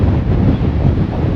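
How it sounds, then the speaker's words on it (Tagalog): Steady, loud wind buffeting the microphone outside a Las Vegas hotel entrance, a constant low roar with no clear voices throughout. "Lakas ng hangin."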